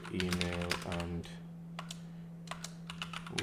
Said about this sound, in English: this keyboard, man, it's too soft